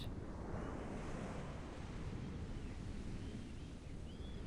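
Video-game waves washing on a shore, a steady, dense surf roar with wind-like hiss filling the scene continuously at moderate level, with no voices.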